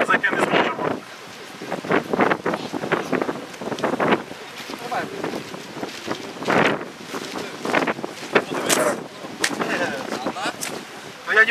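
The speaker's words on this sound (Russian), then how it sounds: "потому что ветер, холодно" Cold wind buffets the microphone over a large cabbage field, a steady gusty rumble that continues throughout while people talk.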